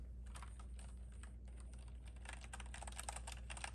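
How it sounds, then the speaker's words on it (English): Keystrokes on a mechanical keyboard with linear Cherry MX Red switches, a fast irregular run of close, crisp clacks that grows denser toward the end, heard alone over a low steady hum. "I'm gonna type it on my MX Red keys."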